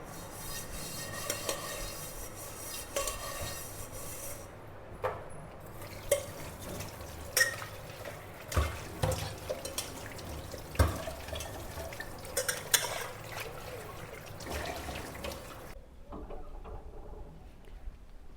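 Dishes clink and scrape with water sloshing, in irregular bursts of clatter close by, ending in quieter rustling.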